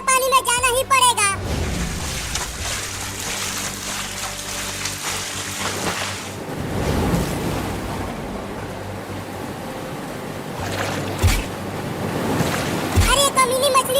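Heavy rain and rushing floodwater in an animated cartoon, a loud, continuous roar of water and wind-like noise that swells and churns, with brief voice fragments at the start and near the end.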